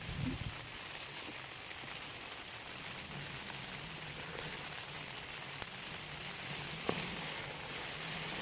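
Steady dense rain hisses without pause on a tent overhead, with occasional louder drops tapping close by.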